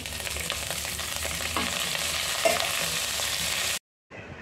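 Cumin seeds and curry leaves frying in a little oil, a dense, steady crackling sizzle with faint spatula taps, cutting off abruptly near the end before resuming briefly.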